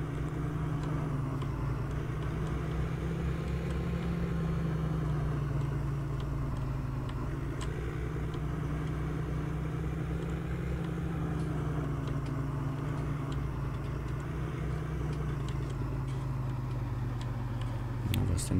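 A car in Farming Simulator 19 pulls away at full throttle, its engine droning loud and steady with a sustained low rumble throughout.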